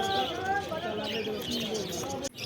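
Caged birds at the Garia bird market, lutino and black cockatiels among them, give faint chirps and calls beneath someone talking steadily over the busy market ambience.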